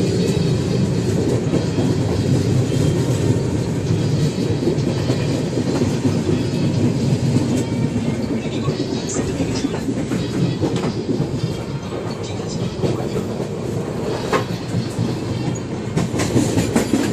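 A passenger train travelling from Kolkata to Pune through Chhattisgarh, on a rainy day, runs on the rails with a loud, steady rumble and rhythmic clickety-clack of the wheels close by, with no talking.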